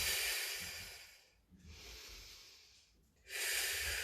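One long, exaggerated inhale during an intermediate Pilates exercise. The airy breath is close and loud, then fades into a softer middle stretch before another strong rush of breath at the end.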